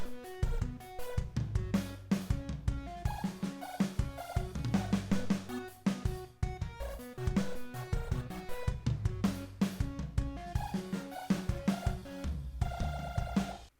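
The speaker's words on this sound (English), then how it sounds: "The last thing I want to do in this section is just play all the synths and the drums together." Synthesizers and a drum kit from a song play together at full, steady loudness, with punchy kicks and snares under layered synth chords and no guitars or bass.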